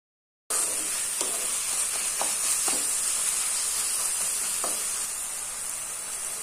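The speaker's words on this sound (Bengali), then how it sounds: "এটা একটু নাড়াচাড়া করে নেব।" Spices fry with a steady, bright sizzle in a pan for banana flower curry, broken by a few soft scrapes and clicks of stirring, with no talk.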